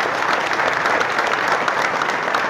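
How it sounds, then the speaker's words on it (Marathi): A crowd at a political gathering claps loudly and steadily for party workers, dense sustained applause with no break. "एकदा कार्यकर्त्यांसाठी एकदा जोरदार टाळ्या वाजवा"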